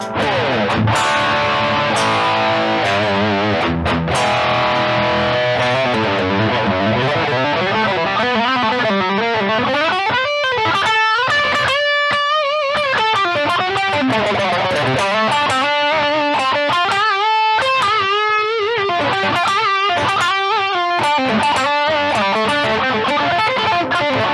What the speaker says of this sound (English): So this is like full rock distortion tone.